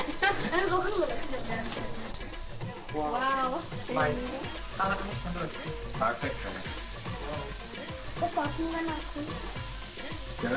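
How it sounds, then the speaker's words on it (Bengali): Steak frying in a pan produces a constant sizzling hiss beneath steady conversation, with people talking nearby throughout. "আমাদের এখন সেকেন্ড পার্টটা ভাজা চলতেছে"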